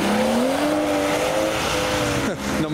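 BMW M5 F90 accelerating hard at a wet car meet, a loud close engine roar rising in pitch with tire squeal, then a quick gear change near the end.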